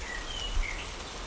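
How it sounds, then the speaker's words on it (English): Steady rain falls outdoors as a continuous, even hiss of drops with no pauses and no talking. "this freaking rain keeps on going and going"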